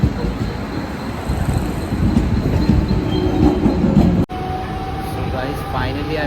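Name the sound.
Thane Express train moving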